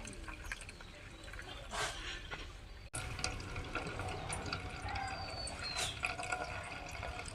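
Water is poured off raw potato starch made for homemade cornflour, a continuous close splashing and trickling stream with one brief break partway through.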